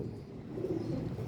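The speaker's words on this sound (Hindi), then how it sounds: "ये ओरिजिनल डब वाला कबूतर है" A Dab wala pigeon coos softly, a brief low murmuring coo over a quiet continuous background.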